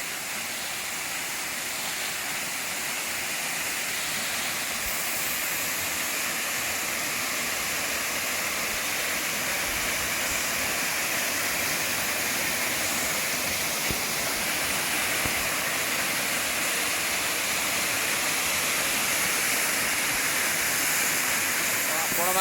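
Khuludi waterfall near Khuludi Mahadev Temple in Odisha pours in a steady, dense roar of rushing water, unbroken and loud throughout with no clear voices.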